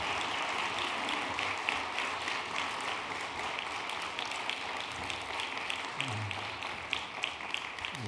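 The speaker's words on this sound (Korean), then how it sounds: "박수 한번 크게 쳐주세요." A church audience applauds, a fairly quiet, distant wash of clapping with scattered distinct hand claps and a steady, rapid texture that persists throughout, with a faint low voice surfacing near the end.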